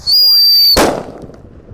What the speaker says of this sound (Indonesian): mercon buntelan kertas